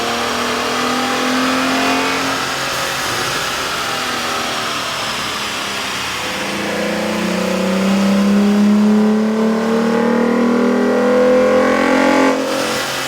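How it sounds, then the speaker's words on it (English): A 3.6L V6 in a Dodge Durango or Jeep Grand Cherokee fitted with an aftermarket air intake revs on a dyno, its loud engine note climbing, easing off, then rising again through a long sustained pull. "With the air intake installed, we ran the vehicle on the dyno to test the sound comparison versus the stock intake."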